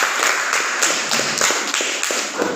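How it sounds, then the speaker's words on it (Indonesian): Classmates applaud group 2 in a classroom, a steady stretch of many hands clapping together at close range with no talk over it. "Silakan, aplaus untuk kelompok 2."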